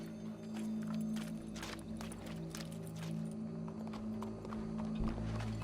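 Horse hooves in the Red Dead Redemption 2 video game, a quiet, steady run of clip-clopping hoofbeats with faint background ambience.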